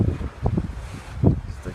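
Sea wind at Aphrodite's Rock on the coast of Cyprus, blowing in gusty, buffeting rumbles against the microphone, with the low sound of surf behind it.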